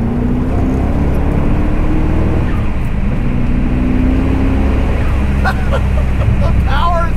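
A 1988 Callaway Twin Turbo C4 Corvette engine pulling in third gear at around 2,000 RPM, a loud, steady low drone that rises slightly, heard from inside the car.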